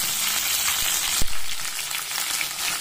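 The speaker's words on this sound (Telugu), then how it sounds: "బీన్స్, అన్ని వెజిటేబుల్స్ వేసి బాగా వేయించుకోవాలి." Beans, drumsticks, radish, carrot and other vegetables frying in a pan for Rayalaseema-style sambar, a steady close sizzle with one brief thump of a utensil partway through, no voices.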